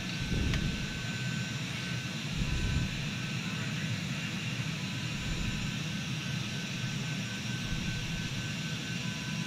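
A Citation 550 jet climbs after takeoff in the Prepar3D flight simulator, giving a steady broadband engine roar with a high whine that holds constant, fairly quiet and with no talk.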